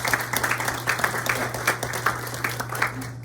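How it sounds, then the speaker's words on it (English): Conference audience gives a brief round of applause, a dense patter of many hands clapping at moderate distance, steady for about three seconds under a low room hum. "If we could give them a quick round of applause."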